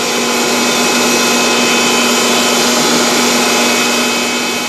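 Diamond milling heads carrying diamond-segment cutters, cam-guided, shaping stone in a single pass, producing a loud, constant high grinding whine with a steady tonal hum and no pauses.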